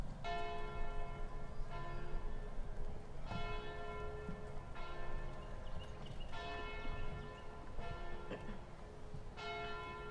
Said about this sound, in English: we toll the bell in the honor of the graduating class